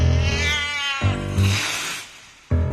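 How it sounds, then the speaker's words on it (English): A cat lets out a series of drawn-out, wavering meows, loud and close, with short pauses between calls and no talking. "A cat!"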